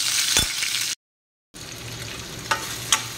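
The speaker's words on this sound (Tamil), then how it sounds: "பொரிஞ்ச உடனே இந்த பாகக்காயை கொஞ்சம் நல்லாவே வதக்கிடணும்" Bitter gourd sautéing in a pan, giving a steady hiss of frying with a few stirring scrapes, broken by a short silent gap.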